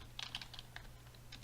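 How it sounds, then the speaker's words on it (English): Quick, quiet clicks of fingers typing on a computer keyboard, a short burst of keystrokes close up against a faint background hum. "Okay, and you type here"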